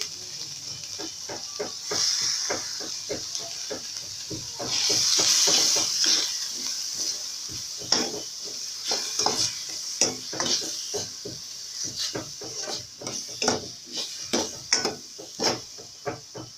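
Carrots and strips of bell pepper tumble into a hot frying pan, giving a steady sizzle broken by a run of quick, close clatters and taps as the pieces land and are moved around.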